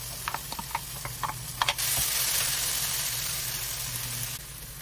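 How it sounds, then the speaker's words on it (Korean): Potatoes stir-frying in cooking oil in a pan: a few light taps and clatters, then a loud, steady sizzle of frying that holds for several seconds before easing slightly. "팬에다가 식용유 두고 감자 먼저 볶을게요"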